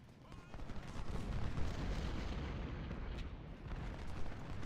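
Sustained battlefield gunfire and artillery rumble from an Ultimate General: Civil War engagement at Second Bull Run, a dense, continuous roar of musketry and booming cannon with no talking.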